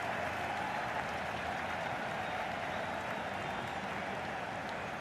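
A big T20 cricket crowd at a Melbourne Renegades versus Melbourne Stars match applauds and cheers in a steady, even wash of clapping that holds the whole time.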